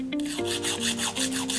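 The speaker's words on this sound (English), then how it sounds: "If there are any spots the drill didn't fully remove, you can file them now." Fingernails being filed with a nail file after drill shaping during a nail art session: brisk back-and-forth rasping strokes, close and fairly quiet, with a few rhythmic scrapes over under two seconds and no voices.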